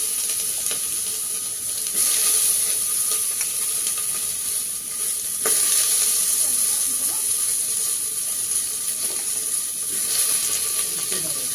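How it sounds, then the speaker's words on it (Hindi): Potatoes fry in hot oil with a bright, continuous hiss and sizzle that swells in waves, close and fairly loud, with faint clinks of a utensil now and then. "अब मेरा तेल गर्म हो गया, पहले मैं आलू फ्राई करने मैंने तो ये आलू डाल दिए"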